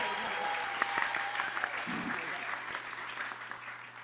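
An audience at a college poetry event claps loudly and steadily for two performers, a thick wash of hand claps with occasional sharper nearby claps and a brief murmur of voices underneath.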